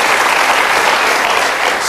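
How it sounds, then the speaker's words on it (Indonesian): Loud, dense applause from a seated audience honoring three young people at a live event, a continuous close roar of many hands clapping at once with no talking. "mari kita berikan tepuk tangan untuk 3 anak muda ini"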